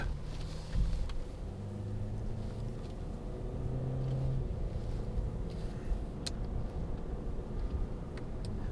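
Engine note of a 2017 Ford Escape Titanium with its 1.5-liter EcoBoost engine pulling under acceleration: a steady low rumble and drone from inside the cabin, fairly constant in level with faint ticking over the top.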